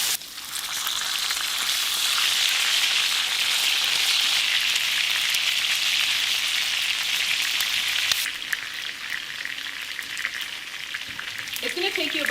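Beef chicharron frying in a pan, a loud, steady crackling sizzle that holds throughout, easing slightly near the end, with a brief stir.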